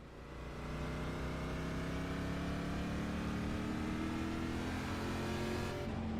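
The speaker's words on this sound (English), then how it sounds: "Let's just do like a third gear cruise." Car cruising a lap of a race track in third gear, its engine holding a steady, slowly rising drone, sustained and fairly loud without talk.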